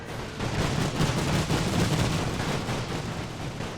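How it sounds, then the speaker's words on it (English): Artillery barrages and machine gun fire from The Great War strategy game roar in a dense, continuous rumble of overlapping booms and rattling bursts, loud and steady with no voices. "I'm bringing in artillery and machine gun fire."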